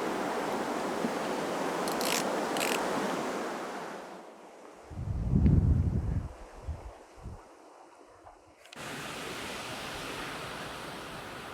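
Strong wind blusters across a lake during a summer carp fishing session, with loud broadband roaring buffeting the microphone, a few sharp low gusts and a brief lull before the blowing resumes.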